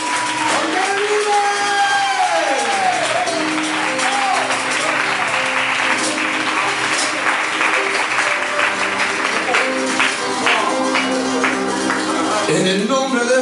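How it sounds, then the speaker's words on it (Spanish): Church congregation applauding and cheering during a lively worship service, with sustained clapping and crowd noise throughout under excited shouting voices and music, all fairly loud and close. "¡Dame un aplauso!"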